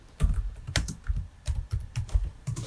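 Fingers type on a computer keyboard in quick irregular bursts of close, crisp clicks and taps with short pauses between groups, heard alone without talking.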